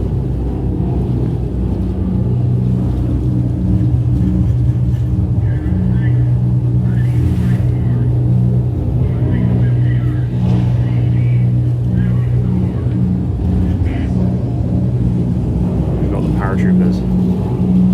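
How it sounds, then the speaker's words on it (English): Big Pratt & Whitney radial engines of a C-47 aircraft roar in a steady, loud, low rumbling drone, a museum simulation of a paratrooper jump flight over Normandy, with faint voices under it. "Hear the roar of those big Pratt & Whitney engines."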